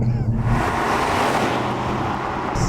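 A 2021 Cupra Leon launches hard from a standstill using launch control, with a loud, continuous engine roar and rushing road noise, heard up close and without talk.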